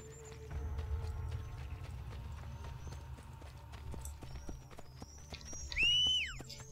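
A horse in the Assassin's Creed: Brotherhood video game trots with steady clip-clopping hooves, then gives a loud, high whinny near the end.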